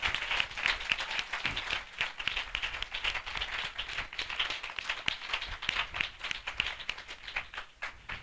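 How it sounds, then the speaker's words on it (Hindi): Loud, brisk applause from a church assembly welcoming a guest, dense crackling claps with sharp individual hits standing out throughout. "हम जोरदार तालियों से उनका स्वागत करें।"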